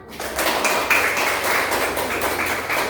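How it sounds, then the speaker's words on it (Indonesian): A classroom of students applauding together, dense and even clapping that starts abruptly and holds steady for a few seconds, loud and close with no talking on top. "dan itu terima kasih, tepuk tangan."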